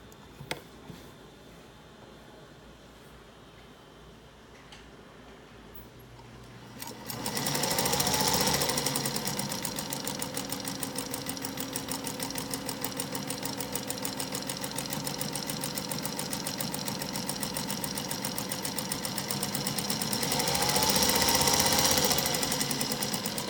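A foot-pedal-driven sewing machine stitching fabric starts up after a quiet few seconds, then runs in a steady, fast mechanical chatter close by, swelling slightly louder near the end.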